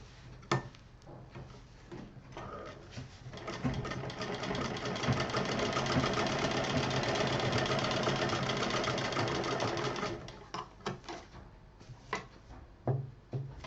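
A sewing machine stitches piping onto a fabric scissor case, running in a steady continuous whir for several seconds before slowing into a few separate stitching bursts and clicks near the end, with no talking.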